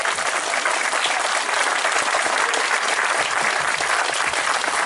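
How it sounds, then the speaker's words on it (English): Sustained, loud clapping from a large audience, steady and unbroken from start to finish. "big round of applause"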